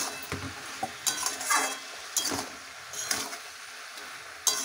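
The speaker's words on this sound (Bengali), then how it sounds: "এরপরে সে হালকা ভাজা চিংড়ি মাছগুলো দিয়ে দিলাম।" Lightly fried prawns go into a pan for bottle gourd lau chingri, giving soft sizzling with a few sharp scrapes and clinks of a spatula at irregular moments, fairly quiet.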